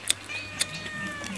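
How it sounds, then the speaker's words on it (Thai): A cat meows faintly a few times in short, thin calls, heard at a distance in a quiet room with light background noise. "มีแมวด้วย"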